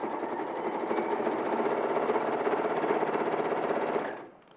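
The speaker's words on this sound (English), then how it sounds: "So that's just top stitching the bottom of the pocket, the curve of the pocket." Close and steady, a sewing machine top stitches around the curved bottom of a fabric pocket with a fast, even whirring rattle that runs for about four seconds before stopping abruptly.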